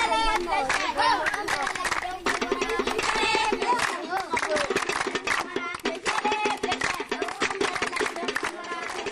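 Girls clap their hands in a rhythmic game in a West African village, rapid repeated claps mixed with children's voices, drumming and chatter, fairly close and busy throughout.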